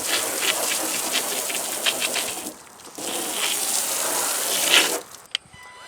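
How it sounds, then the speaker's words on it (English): A hose sprays water onto a Nissan Titan pickup truck in a close, steady hiss with a brief break midway, then cuts off near the end. "And I'm going to rinse it off so there's no dirt."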